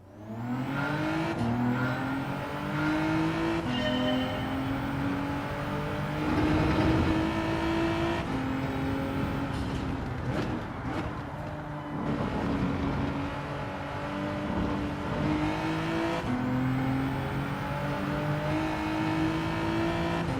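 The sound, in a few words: race car engine in video game Gran Turismo 7, G70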